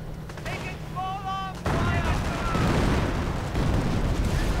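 An artillery strike called in by Panzer Command in a 1v1 real-time strategy war game: heavy, rumbling, overlapping explosions and gunfire erupt loudly after a quieter start, under a commentator's voice.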